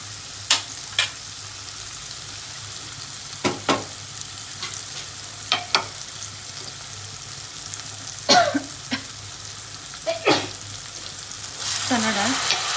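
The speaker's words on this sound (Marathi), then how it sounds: "त्याच्यामध्ये मी घातली चणा डाळ आणि हे चांगलं मिक्स करणार आहे." Chana dal stirred into a pan of frying masala of onion, tomato and spices, giving a steady low sizzle broken by several sharp scraping stirs and clatters, close by with no talk.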